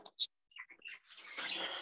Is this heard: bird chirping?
yes